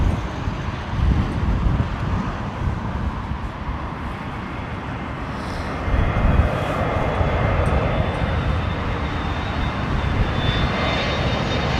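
TAP Air Portugal jet in retro livery at London Heathrow, a loud continuous engine roar with wind-like rumble that swells slightly partway through.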